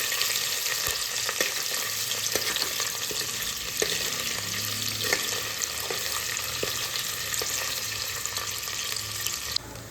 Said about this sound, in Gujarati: ગોલ્ડન બ્રાઉન થાય ત્યાં સુધી આપણે પનીરને ફ્રાય કરવાના છે